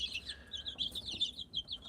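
High, rapid peeping of about forty chicks crowding a feeder, overlapping chirps close by, quiet and continuous.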